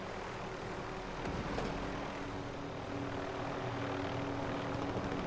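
Helicopter engine in Call of Duty Warzone, a steady loud rotor and engine drone running throughout without a break, close and continuous, with no talk over it.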